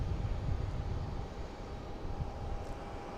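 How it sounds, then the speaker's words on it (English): A JetBlue Airbus A220 arriving at Boston Logan International Airport produces a steady, distant low jet roar with a broad rumble that fades slightly over a few seconds. "Next to arrive, we have JetBlue coming in from Destin Fort Walton Beach."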